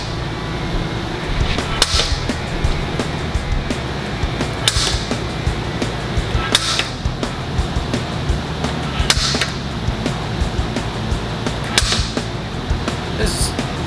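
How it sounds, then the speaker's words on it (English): A Starrett automatic center punch snaps sharply against metal being fabricated into a helmet, giving sparse, crisp clicks every couple of seconds over a steady background hum. "This fancy little tool, I think it's made by, Starrett center punch."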